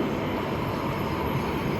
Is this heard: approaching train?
yes